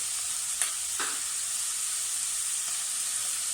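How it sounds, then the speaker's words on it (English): Carrots and celery frying in a pan for a hearty sausage casserole, a steady bright sizzling hiss with a couple of faint utensil taps early on, otherwise an even, close frying sound. "Okay, so now we're going to add the carrots and the celery"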